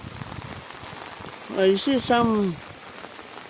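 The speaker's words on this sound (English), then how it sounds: "it's still raining" Steady rain falls during the Dogura Creek flood near Port Moresby, a soft continuous hiss in the background while someone speaks briefly over it.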